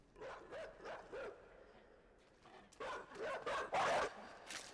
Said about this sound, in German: Da kommt der Hund.